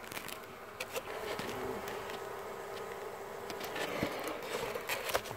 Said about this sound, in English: these are nurse bees who just don't leave